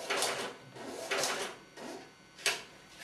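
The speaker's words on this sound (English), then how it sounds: "We want it on the receipt printer here." A receipt printer on an EPOS till system prints shelf-edge labels with barcodes, giving four short mechanical whirring bursts in an even rhythm, loud and close, with no voices.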